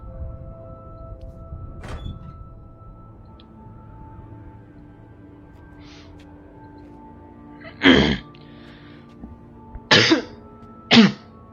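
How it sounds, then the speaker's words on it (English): Three harsh coughs close to the microphone, spaced a couple of seconds apart, follow a faint earlier cough in a quiet room. "My cough is not this bad."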